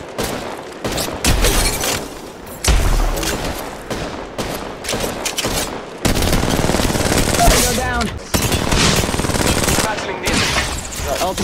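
Rapid bursts of automatic gunfire and booms in the video game Apex Legends Mobile, loud and repeated, with players talking over the shooting.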